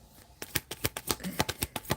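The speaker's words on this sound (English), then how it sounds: "when the cards shuffle out" A deck of playing cards being riffled for a tarot-style reading, a rapid run of about a dozen crisp, close slaps and flutters in quick even rhythm.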